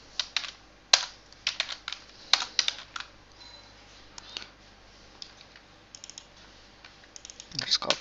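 Java code is typed on a computer keyboard in uneven bursts of sharp, close key clicks with short pauses between runs. A quiet background hum sits underneath.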